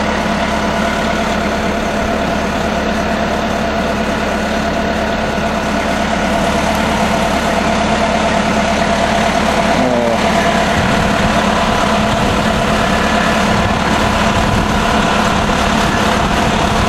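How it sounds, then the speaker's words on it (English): A four or six wheel drive Ice Explorer vehicle idles near Jasper and Lake Louise, a loud, steady low engine rumble running continuously with no talk. "4 or 6 wheel drive vehicle."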